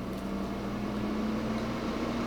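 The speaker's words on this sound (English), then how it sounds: "We're going to hit start. And it's going to start air frying." A Ninja Crispi portable air fryer runs, giving a steady, close mechanical whir with a constant low hum, even in level and unbroken throughout.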